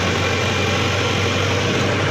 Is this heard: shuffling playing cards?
no